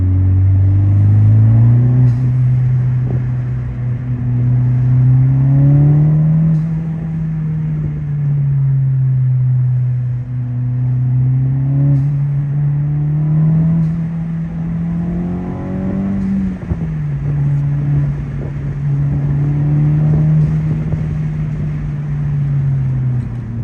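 A Honda Civic Type R FL5 fitted with an HKS blow-off valve accelerates with the exhaust burbles switched off. The engine drones loud and close, its pitch rising and dipping through repeated throttle changes.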